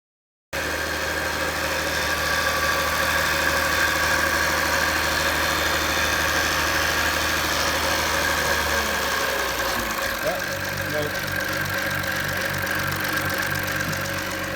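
A Jaguar F-Type engine idles steadily and evenly at close range with a low, constant hum. Near the end the tone shifts slightly and a faint rhythmic pulsing appears.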